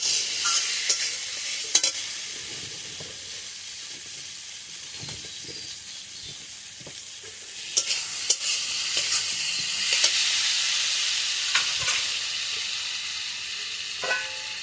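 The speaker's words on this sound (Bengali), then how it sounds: "খুব সুন্দর করে মশলাগুলো ভেজে নিয়েছি" Spice paste frying in oil as it is stirred, a hissing sizzle punctuated by repeated sharp scrapes and clicks of the spoon against the pan, swelling louder in the later half.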